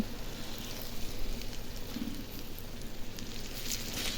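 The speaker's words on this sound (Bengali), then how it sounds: "এই যে দেখুন আমি ভাজতেছি আর বেগুনেতে অনেকেই তেল খায় সেই জন্য কম তেলে ভাজতেছি" Eggplant slices frying in a small amount of oil produce a close, even sizzle with a faint hiss, steady for a few seconds.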